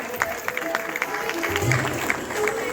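A crowd claps steadily at a school annual function, an even patter of applause with voices mixed in.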